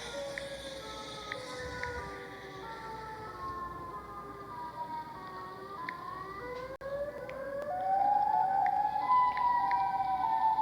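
Video game siren, a rising and falling electronic wail with layered tones, sweeping continuously and growing louder toward the end, with little else around it.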